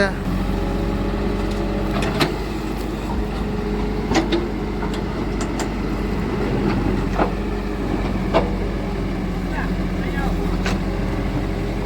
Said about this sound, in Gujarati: દેવાયતભાઈ મશીન હાકે છે